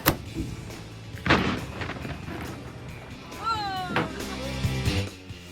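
Cannon blasts fired from a sunset cruise boat off Panama City Beach, two sharp booms with lingering echo over open water, followed by a whistling tone and crowd noise.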